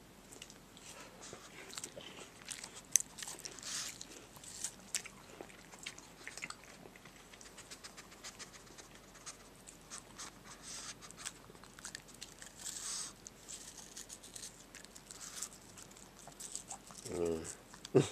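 A pet eating watermelon, heard as soft, intermittent close-up chewing and wet biting sounds mixed with small rustles and taps, with a brief voice near the end.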